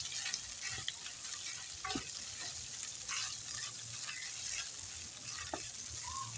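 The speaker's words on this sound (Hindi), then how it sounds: "अब हम इसमें सबसे पहले चिकन भून लेंगे।" Chicken pieces fry in a pan while a spoon stirs them, giving a soft, continuous sizzle broken by occasional scraping clinks, quiet and close with no talking.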